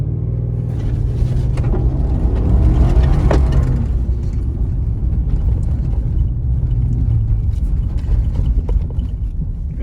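A 2016 Ford F150 fitted with a Flashshark cat-back exhaust launches at high revs, heard from inside the cab as a loud, steady low droning rumble with some wind buffeting and no talking.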